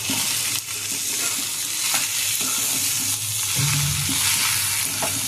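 Fried rice with coriander is stirred in a hot pan, a steady close sizzle broken by repeated scraping and spatula knocks.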